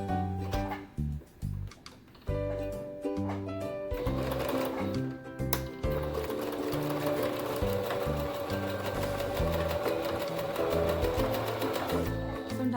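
A sewing machine runs a straight stitch down the middle of a pigtail hair bow, clattering in short bursts at first, then stitching steadily and rapidly up close.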